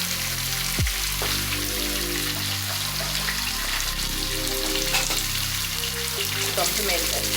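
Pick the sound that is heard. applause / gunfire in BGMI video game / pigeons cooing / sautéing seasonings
sautéing seasonings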